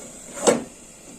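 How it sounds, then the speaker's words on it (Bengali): A lid set down onto a cooking pot of stem curry (data kalia) on the stove, a single close, short clunk in an otherwise quiet kitchen. "এবার চাপা দিয়ে দেবো।"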